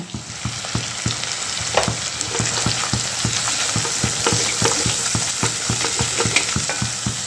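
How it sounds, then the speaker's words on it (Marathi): Vegetables frying in a kadai over a village chulha, a steady close sizzle with regular stirring scrapes knocking in an even rhythm throughout, no talk. "आता मस्तपैकी सर्व याची भाजी कढईमध्ये आता शिजायला टाकते"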